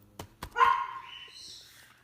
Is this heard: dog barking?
yes